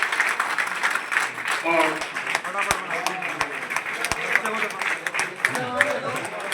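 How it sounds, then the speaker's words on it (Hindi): Audience applause at the launch event of a campaign to make Jabalpur a beggar-free city: steady, busy clapping running the whole time, with voices talking over it. "जोरदार तालियां बजती रहे भाई हमारे दोनों बड़े जन के लिए"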